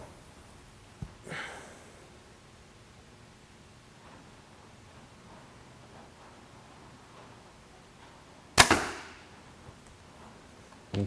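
Two arrows shot from a PSE compound bow, each a sharp release snap with a brief whoosh, the second louder and closer, separated by several seconds of quiet room tone.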